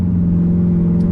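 A 5th gen Camaro SS with an aftermarket exhaust drones loudly from inside the cabin while accelerating onto a highway, a steady, deep, close engine rumble with no talking.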